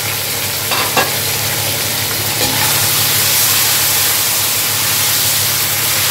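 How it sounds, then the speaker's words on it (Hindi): Chopped tomatoes go into a pan of browned onions, frying with a steady loud sizzle and hiss that rises as they hit the hot oil, with a few stirring scrapes and a low hum underneath. "अभी मैं इसमें ऐड कर दूंगी 4 कटे हुए टमाटर"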